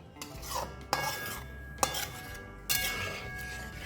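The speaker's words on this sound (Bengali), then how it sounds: "তো এটাকে আমি এবার কষিয়ে নেবো" Chana dal is stirred and fried in a pan: repeated scraping strokes of a spoon across the pan with a sharp clack roughly every second, close and steady, a soft frying hiss underneath.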